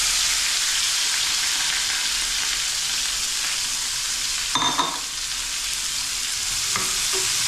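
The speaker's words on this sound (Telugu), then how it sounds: "నూనె వేసుకుని ఇక జీలకర్ర కొంచెం, ఇలా పచ్చిమిరకాయ చెప్పలేదు కదా, 3 పచ్చిమిరకాయలు, పెద్ద ఉల్లిపాయ." Cumin, three green chillies and a large onion frying in oil in a pan, a steady loud sizzle throughout with a brief clatter of stirring midway and no speech.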